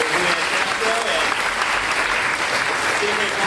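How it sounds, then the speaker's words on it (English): Audience applause for two speakers, Julian Castro and Ruben Navarrette, at a talk event, a steady dense clapping from a crowd that fills the hall evenly, loud and sustained throughout. "I'd like to give a big round of applause to our 2 speakers, Julian Castro and"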